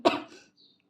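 A single short cough, close and fairly quiet, followed by a faint trailing breath and near silence.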